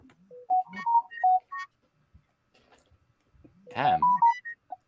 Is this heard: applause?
no